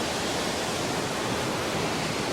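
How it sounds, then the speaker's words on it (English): Waterfalls beside the Inversnaid Hotel on the West Highland Way roar in a constant, close, full rush of falling water with no voices. "we have reached the waterfalls at the Inversnaid Hotel"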